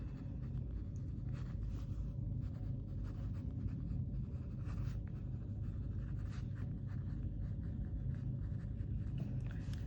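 Pen scratching steadily on paper while working a class 10 trigonometry problem, a soft continuous scribble over a low room rumble with no talking.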